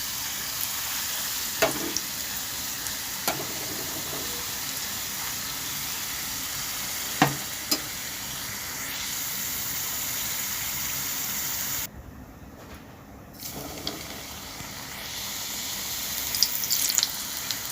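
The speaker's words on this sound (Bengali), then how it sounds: "এর মধ্যে আমি নিমকিগুলো ভাজতে শুরু করে দিয়েছি।" Square pieces of nimki dough deep-fry in hot white oil, giving a continuous close hiss and bubble. A few sharp clicks of a utensil and a brief dip in the sizzle occur as pieces are stirred.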